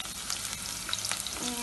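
Vegetables and beans are stirred in a hot pan, with a close, steady sizzle and soft scraping from the spoon.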